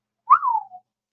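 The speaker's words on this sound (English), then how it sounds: "I'm sure that whistle was super loud." A single loud human whistle, a short bright note that bends downward and fades after about half a second, alone in silence.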